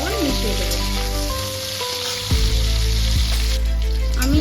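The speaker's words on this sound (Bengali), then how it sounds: "এই ফুলকপি আলুটাকে আমি কিন্তু ভালো করে ভেজে নেব।" Cauliflower and potato pieces frying in a pan give off a loud, steady, close sizzle that holds throughout, with faint tonal hum and a few soft shifts as the pieces settle.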